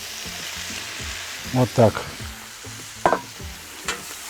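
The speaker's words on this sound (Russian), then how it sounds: "Перемешиваю все с картошечкой." Meat and potatoes sizzle in a kazan for ojakhuri as they are stirred, with a steady crackling fry and a few louder scraping clunks from the stirring, plus a short spoken phrase.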